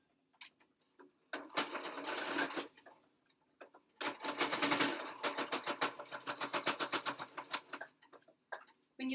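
A sewing machine stitches down a folded cloth face mask in close, loud bursts of rapid needle chatter, with short pauses between runs and a long continuous stretch in the middle.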